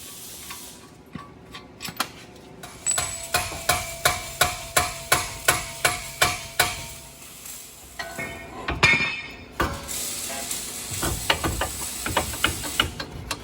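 Repeated hammer strikes on metal parts during a 2017-2021 Honda Ridgeline 1.5-inch lift kit install, a steady run of about a dozen sharp, evenly spaced blows, then looser clanks and clinks near the end.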